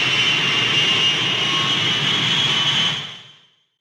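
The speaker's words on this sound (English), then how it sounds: "you'll think you're taking off in your own private executive jet." Jet aircraft takeoff roar, evoking a private executive jet: a loud, steady, broadband rush holds for about three seconds, then fades out quickly to silence. No voices.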